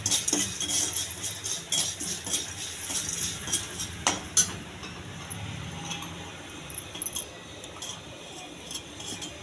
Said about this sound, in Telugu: ఇది ముందుగా పోపు వేయించుకుంటున్నాను.